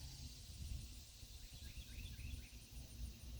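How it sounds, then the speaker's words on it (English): Small birds chirp in a quiet sunny garden of blooming hardy hibiscus and crape myrtles, giving a few faint, short distant tweets over a soft outdoor hush with no traffic. "Birds are chirping."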